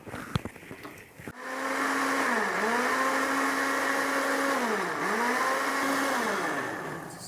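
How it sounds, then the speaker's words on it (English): Blender whirring through fresh tomatoes, starting abruptly after a few clatters, then a loud steady motor whine that dips and recovers twice as the load shifts, running alone to the end. "we need to blend these fresh tomatoes"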